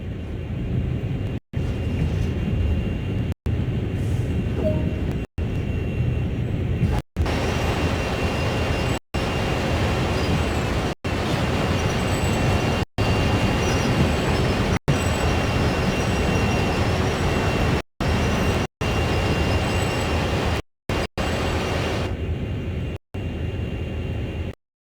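A heavy CSX freight train in Train Sim World rumbles steadily with broadband mechanical noise, interrupted by brief regular dropouts, as the locomotive slows under auto brake.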